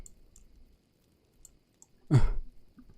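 Several faint, isolated mouse clicks in a quiet room, followed by a brief, louder low thump.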